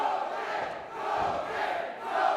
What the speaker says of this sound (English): And this crowd coming alive